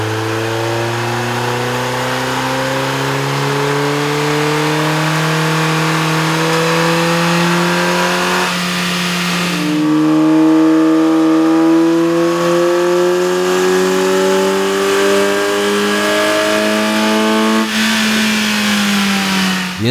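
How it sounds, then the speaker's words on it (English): A Ford Focus 2.0L PZEV fitted with a K&N air intake runs on a dyno, its engine droning loud and close as it climbs steadily through the revs in repeated rising pulls. "we ran the vehicle on the dyno to test the sound comparison versus the stock intake"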